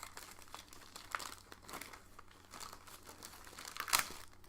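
Packing paper crinkles quietly while a Geek Fuel subscription box is unboxed, with soft, uneven rustles throughout and a sharper crackle near the end.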